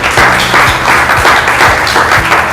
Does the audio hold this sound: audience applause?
yes